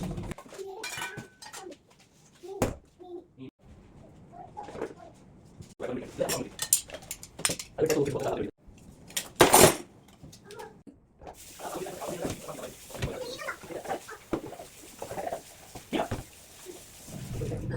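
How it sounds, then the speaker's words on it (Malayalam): Dishes and pots being washed at home in the evening give scattered clinks, knocks and clatters, some sharp and close, with running-water hiss in the later part and someone talking intermittently. "അങ്ങനെ അവിടെ ഉണ്ടായിരുന്ന പാത്രങ്ങളൊക്കെ ഞാൻ കഴുകി വെച്ചു."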